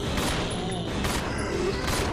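Several quick gunshots in a horror video game, sharp cracks at regular short intervals over a steady background hum, fairly close and moderately loud.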